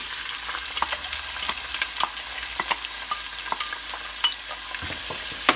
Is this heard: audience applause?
no